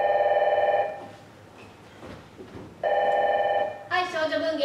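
A telephone rings on stage during a theatre play, sounding in two clear bursts of electronic bell tones separated by a pause. Stage voices follow immediately afterward.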